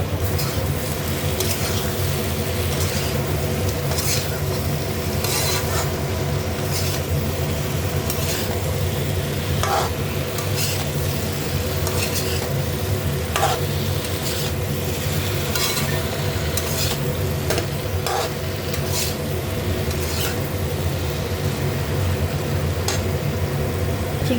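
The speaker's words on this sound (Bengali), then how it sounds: "এবার পেঁপেটা দিয়ে দিলাম দিয়ে ভালো করে করবো" Papaya with prawns being stirred in a pan for a Bengali curry, a long steady sizzle with a constant background hum and frequent scrapes of a spoon against the pan.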